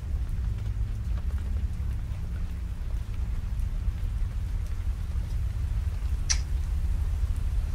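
Steady rain falls heavily, a dense continuous hiss with low rumbling beneath that suggests distant thunder, and a single sharp brief crackle stands out partway through; no voices.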